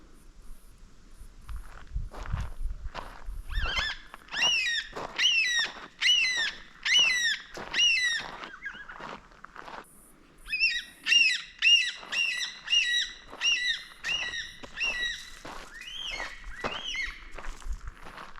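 Harsh, rasping calls of black cockatoos repeated in bursts, fairly close, with a pause partway before another run of squawks; soft thumps underneath, in bushland in the Perth Hills, Western Australia.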